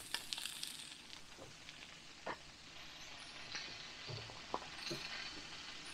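Meat and sausages frying over an outdoor camp setup, a steady soft sizzle with occasional light clinks and stirring sounds, fairly faint and without talk.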